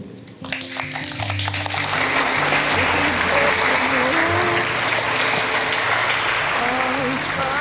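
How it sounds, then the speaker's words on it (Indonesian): Guests at a church wedding ceremony break into sustained applause that builds and holds, with soft background music and some voices beneath the clapping. "Boleh tepuk tangan."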